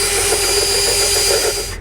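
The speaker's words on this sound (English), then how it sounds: "we put a circular file on the end of this bit, and he's going to drill right towards me" A power drill with a circular file bit bores a 1-inch hole through the body of a bus under conversion, giving a steady, loud, continuous grinding whir with no pauses.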